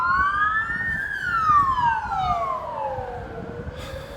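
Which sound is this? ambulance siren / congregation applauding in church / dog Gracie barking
ambulance siren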